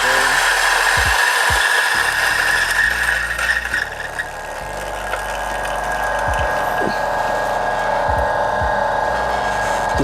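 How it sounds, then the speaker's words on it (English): Coffee grinder on manual setting grinding beans for espresso: a steady motorized whir runs throughout, with a few low knocks and clicks, quieter talk in the background at times. "I start grinding for my espresso"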